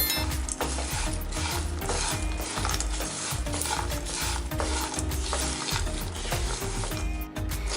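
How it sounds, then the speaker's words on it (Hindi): Poha chivda tossed with spices in a pan, a continuous busy scraping and rattling stir with a light sizzle, close and steady throughout, no voices. "सभी मसालों को अच्छे से मिक्स करेंगे।"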